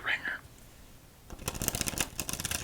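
A deck of playing cards is riffle-shuffled up close, giving a quick crisp run of rapid flutters and snaps after a short soft rustle, with no talking over it.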